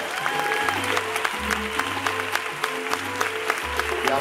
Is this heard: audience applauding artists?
yes